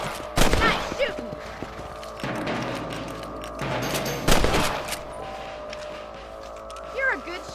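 Rifle shots are fired at rabbits outdoors in the video game Red Dead Redemption. Two sharp, loud cracks stand out, and fainter impacts and ambient game sounds fill the gaps between them. A character speaks over parts of the scene.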